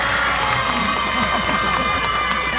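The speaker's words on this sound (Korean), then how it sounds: "여러분 박수 한번 주세요" A festival crowd at the Miryang Citizens' Day outdoor celebration cheers and shouts, with children's voices prominent, in a steady loud roar of near and far voices and only faint scattered applause.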